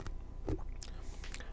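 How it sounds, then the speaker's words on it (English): Crunchy Smarties candy is bitten and chewed close to the mic in a few brief crunches, with a soft voice murmuring faintly underneath. "If you hear me crunching, I'm eating Smarties, which are delicious."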